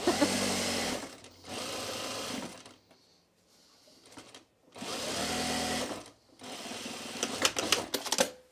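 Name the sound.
sewing machine stitching fabric bowl cozies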